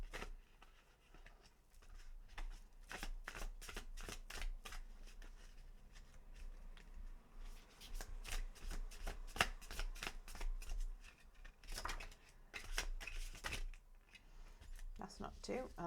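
Tarot cards are shuffled by hand in quick, riffling bursts of papery flicks and slaps that continue steadily throughout, fairly close and soft.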